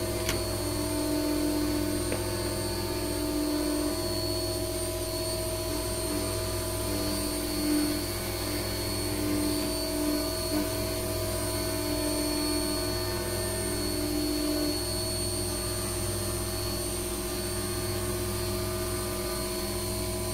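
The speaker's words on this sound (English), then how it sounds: "We're now going to grab our 3/8 end mill, and we're going to contour around the outside edges of the part." A CNC machine runs a 3/8 end mill contouring the outside edges of a screwdriver body part, giving a steady, continuous whine with sustained tonal hum and no pauses throughout.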